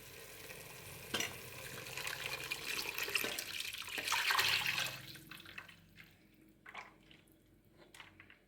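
Masala paste mixed with tamarind is poured into a pan for a lake-fish curry, giving a loud watery sizzle and splashing that fades into quieter stirring and clinks, with no talking.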